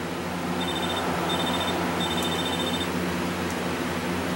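A phone rings in Grand Theft Auto San Andreas, its thin electronic trill repeating in short bursts over steady game background noise.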